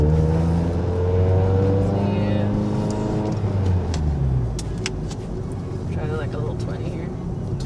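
Turbocharged Mazda Speed3 making around 350 to 400 wheel horsepower, heard from inside as the engine climbs loudly through the revs, drops after a shift and settles into a lower drone. Voices talk over it.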